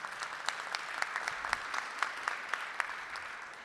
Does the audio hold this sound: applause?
yes